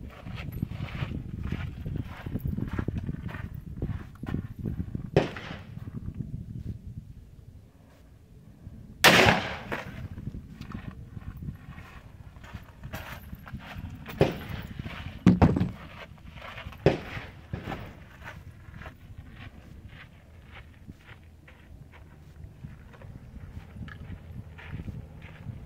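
A Smith & Wesson 500 Magnum revolver fires 500-grain Hornady XTP bullets, giving a few sharp, loud reports spaced seconds apart over a steady low background rumble.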